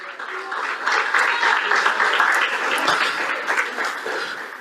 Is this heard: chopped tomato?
no